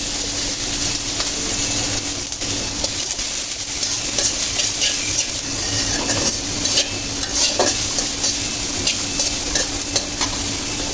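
Garlic frying in oil in a pan until light brown, a steady close sizzle with frequent scraping and stirring clinks of a utensil against the pan throughout, and no talking.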